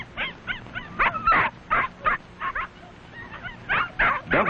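Tiny six-week-old puppies yip and whimper in a series of short, high, close squeaks and cries, coming in quick irregular bursts with brief pauses between them.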